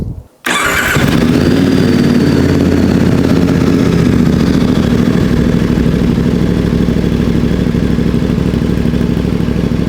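A VOGE DS800X Rally motorcycle with a Scorpion exhaust cranks and fires up, then settles into a loud, steady, throbbing idle close by.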